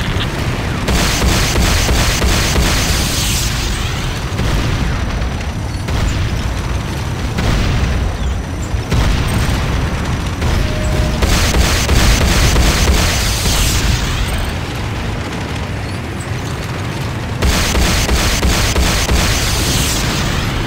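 Explosions pound a Nod airstrip under attack in the Renegade video game, a loud, continuous barrage of booming blasts and crackling bursts filling the whole stretch with no pause.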